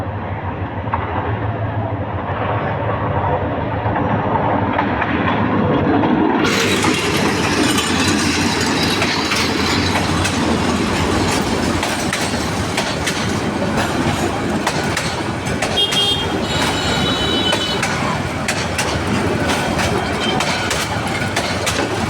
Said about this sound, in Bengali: অলরেডি ট্রেন চলে আসছে আপনি লক্ষ্য করছেন